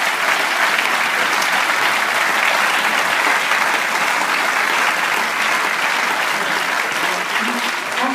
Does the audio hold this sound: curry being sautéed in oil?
no